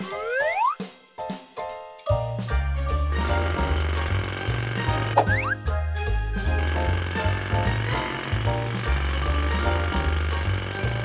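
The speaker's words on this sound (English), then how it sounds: "Morphle, morph into a jackhammer." In a cartoon, a jackhammer rattles loud and steady after a few rising boing-like effects, with rapid low pounding that continues under music and other sound effects.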